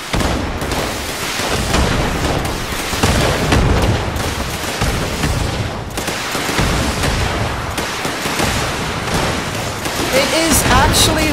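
Dense, rumbling artillery fire from a battery in the video game Fallout 76 fills the whole stretch as continuous loud booms and blasts, with someone talking over the barrage.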